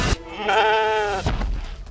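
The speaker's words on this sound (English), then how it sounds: "Hugh Jackman stars as a shepherd who reads murder mysteries to his sheep" A sheep gives one loud, close, wavering bleat lasting about a second, framed by brief thumps and rustles in a film scene.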